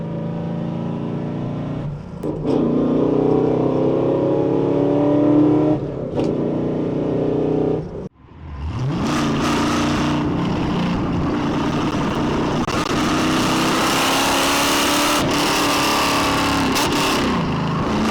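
LS V8-swapped Hyundai Genesis Coupe with a T56 transmission, its engine running loud and close, then a sharp drop and a rising, surging rev that holds strong with no talk.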